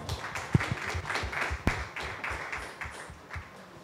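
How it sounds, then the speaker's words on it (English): At a film trailer launch, an audience claps for actor K.K. Menon, a thin scattering of close individual claps that rise and fall rather than a full ovation. "at least now we need to have some huge round of applause"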